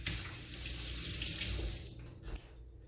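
Hands rinsed under a running kitchen tap before rubbing down St Louis ribs, a steady close splashing hiss of water that thins out toward the end.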